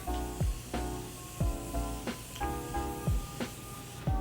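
Morphe X Jeffree Star setting spray hisses in quick, short bursts, about six or seven close, crisp pumps at a steady rhythm, each a sharp spritz over a faint tonal hum in the background.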